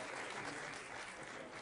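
Brief, steady applause from the audience at a school board meeting, a soft, even wash of clapping heard from a distance.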